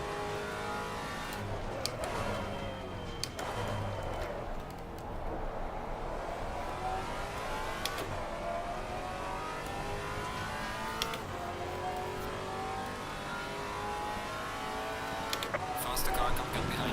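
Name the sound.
race car engines in the video game Assetto Corsa Competizione, Maserati MC GT4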